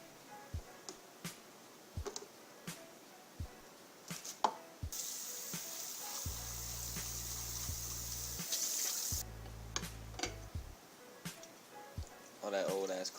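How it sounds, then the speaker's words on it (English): Tap water runs into a coffee pot as it is rinsed, a steady hiss in two bursts, broken up by sharp clinks and knocks of handling in a kitchen. "Make sure you rinse your coffee pot out."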